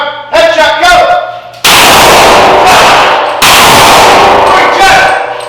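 Gunshots fired during shooting range drills ring out in loud, sharp bursts, with a quick cluster of ringing shots followed by two heavy blasts that echo and decay across the range.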